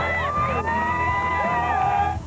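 Crowd in the stands at an Olympic gymnastics competition in Athens cheers and shouts encouragement, with loud overlapping yells and whoops sustained throughout.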